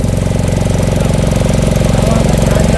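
Motor boat engine running steadily on the Godavari river during a flood, a loud, close, continuous chugging drone with a fast regular knock throughout.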